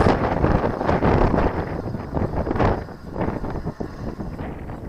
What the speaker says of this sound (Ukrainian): Вітер капец.